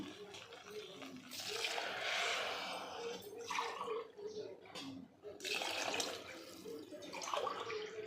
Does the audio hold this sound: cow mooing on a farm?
no